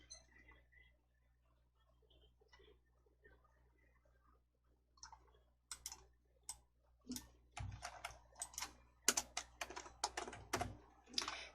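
A computer keyboard clatters with quick, close key taps that start sparse and grow into a dense run of typing, ending with firmer keystrokes like an enter press; no voices.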